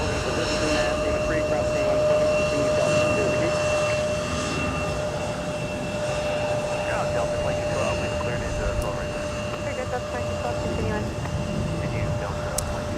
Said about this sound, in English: There's our 321 Neo.